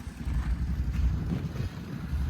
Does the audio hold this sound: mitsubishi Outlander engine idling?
yes